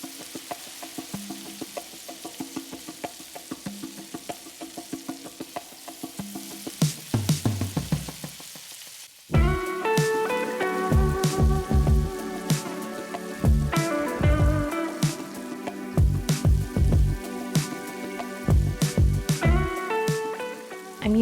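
Ground turkey and yellow onions fry in olive oil with a soft crackle at first, then a louder, busier sizzle with repeated scraping stirs that runs on with no talking.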